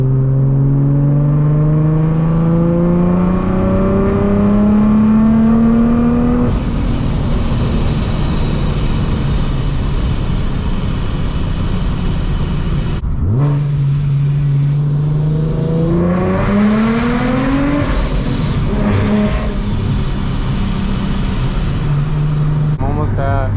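A car with a blow-off valve and a cog-belt kit, revving loud and close in third gear up to the red line, its engine note climbing steadily, dropping off, then climbing again, with a voice over parts of it.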